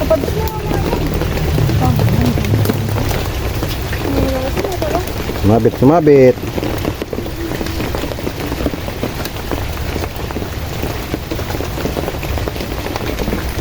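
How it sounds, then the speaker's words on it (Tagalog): Steady, heavy rain patters across the whole stretch during a typhoon on a fishing trip, with brief voices and a short burst of louder activity partway through. "Umuulan pa naman."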